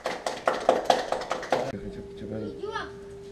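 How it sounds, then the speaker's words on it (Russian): Short burst of rhythmic hand claps from a small group honouring a game winner; the steady, even beats stop abruptly partway through, leaving a faint tone and some soft chirping sounds. "аплодисменты"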